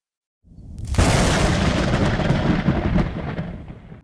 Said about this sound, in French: Ce soir, une puissante explosion a tonné sur le territoire de Kiev, à la suite de quoi un dépôt de munitions a été détruit.